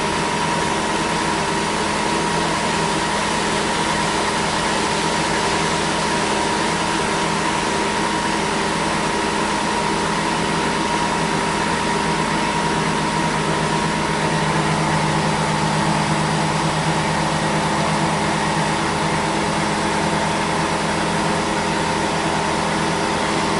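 Steady, droning boat engine on the Norfolk Broads as another boat overtakes, a constant close hum with no breaks.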